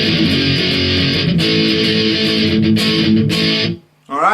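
A distorted electric guitar chugs loud, dense palm-muted notes in a punk rock part, steady and driving, then cuts off abruptly near the end into a brief pause.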